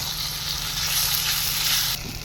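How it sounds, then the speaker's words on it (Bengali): Chopped tomatoes added to a hot pan while cooking rangoli chicken, setting off a loud, steady, close sizzle that fills the whole clip and eases slightly near the end, with no talk. "এবার টমেটো কোচানোগুলো দিয়ে দিলাম।"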